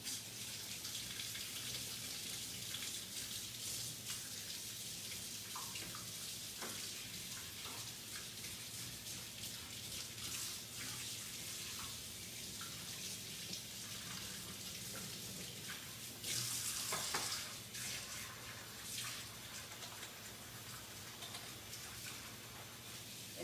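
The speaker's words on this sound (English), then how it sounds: "Let me just rinse this." Tap water runs steadily over a chalk stencil in a sink, a quiet continuous splashing hiss with no talk.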